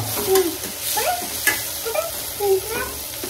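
Tomatoes being stirred in a pan, with repeated close scraping strokes over a soft, steady sizzle and no talking.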